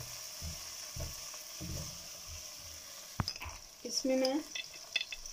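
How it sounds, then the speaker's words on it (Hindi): Chickpeas are roasted with masala in a pan. A close, steady sizzle plays under a few spoken words, followed by scraping stirs and a short clatter of the utensil against the pan. "तो अब हम इसमें ये चने ऐड कर देंगे, इनको इधर थोड़ा भूनेंगे इस मसाले के साथ"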